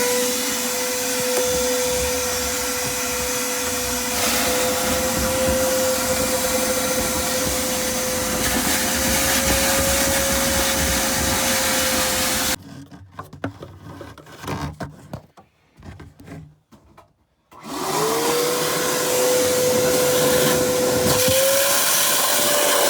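A shop vac runs loudly and steadily with a constant whine, cuts out partway for a few seconds of quieter rustling, then starts up again and roars on to the end.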